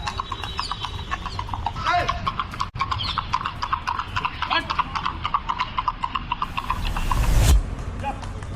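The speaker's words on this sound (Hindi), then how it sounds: "काले रंग के इस शानदार घोड़े की सवारी करते वक्त बेटे को विधायक जी एक ट्रेनर की तरह सिखा रहे हैं" A black horse clip-clops steadily and briskly during a riding lesson at a residence, hooves close and rhythmic, with a brief whinny and some background noise near the end.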